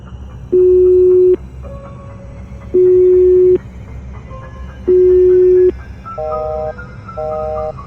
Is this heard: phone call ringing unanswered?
yes